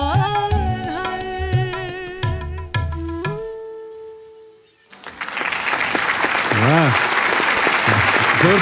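Loud, dense audience applause at a poetry-contest TV show, following a duet, swells up right after a stretch of music fades out, with a host's voice speaking over the clapping.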